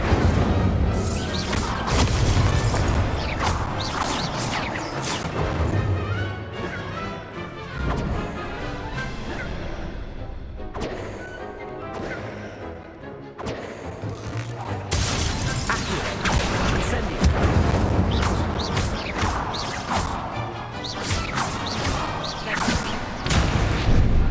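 Incendio fire spells cast repeatedly in the Hogwarts Legacy game, giving loud whooshing bursts and crackling impacts that come in quick succession, mixed with other spell effects over a dense, busy background.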